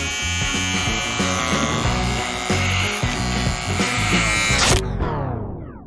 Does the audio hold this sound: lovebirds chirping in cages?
no